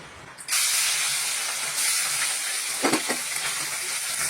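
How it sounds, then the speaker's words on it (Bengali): Small baiza fish dropped into hot smoking oil, bursting into a loud, steady hiss and crackle that holds throughout, with a brief clatter partway through. "এবার মাছগুলো ভালো করে ভেজে নেবো"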